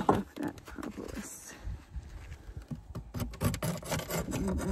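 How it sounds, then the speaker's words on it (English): Propolis being scraped off a Layens horizontal beehive frame with a metal tool, a rough rasping and rubbing of wood in repeated uneven strokes, close by and moderately loud, with a person speaking over parts of it. "Let's scrape off that propolis."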